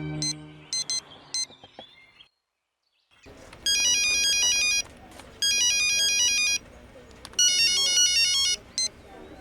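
A telephone ringtone sounds in repeated loud electronic bursts, three long rings separated by short gaps, with earlier shorter beeps before a brief silence.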